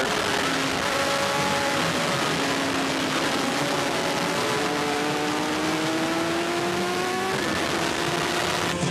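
Kawasaki 600 racing motorcycles at a WERA four-hour national endurance race at Autobahn, their engines wailing loudly and continuously, with rising and shifting pitch as bikes accelerate and pass nearby.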